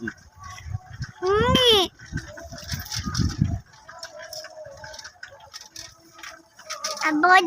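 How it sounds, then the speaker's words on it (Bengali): A young goat bleats in short quavering calls in a village along a dirt road, with faint voices and rural background noise around it. "ছাগলের বাচ্চা"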